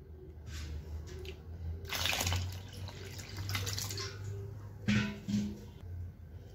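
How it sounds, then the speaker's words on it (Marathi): Fresh water poured onto wheat soaking in a container for kurdai, a close splashing gush in a couple of bursts over a soft watery background, with no talking. "आता यामध्ये आपण दुसरं पाणी घालणार आहोत."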